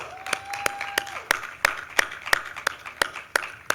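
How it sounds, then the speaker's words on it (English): Sparse, scattered applause for panelists at a Georgetown University health conference session, a dozen or so distinct claps ringing out in an uneven rhythm over a faint steady tone and light room noise. "A big round of applause for all our panelists,"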